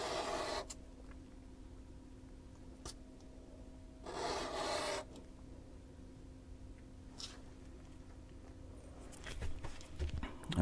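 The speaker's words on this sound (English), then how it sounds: "try to get the angle proper and just rake it across until you get it nice and smooth" A lock pick is sanded with 400 grit abrasive, rough raking strokes in a few loud bursts over a quiet steady background hum.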